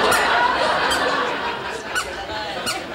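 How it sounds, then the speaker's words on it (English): Squeaky dress shoes with tassels chirp in quick, repeated squeaks while someone walks across a bar floor, fairly close and loud over a busy room murmur. "squeaky shoes are only a problem if you're a mugger"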